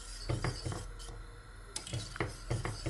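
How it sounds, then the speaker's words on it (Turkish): Orange juice mixture stirred in a pot on the stove, with a utensil scraping and clinking against the pot in quick, uneven strokes, quiet and close. "Ocağın üzerine aldım ve sürekli kaynayana kadar karıştırıyorum."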